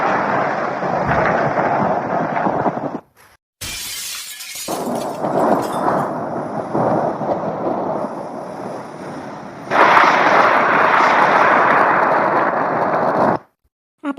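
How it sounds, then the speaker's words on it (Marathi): Heavy rumbling thunder rolls on for several long stretches, with sharp crackling bursts, broken by brief pauses of near silence. "खूप विजा वगैरे चमकून राहिल्या ना आवाजही खूप येऊन राहिला"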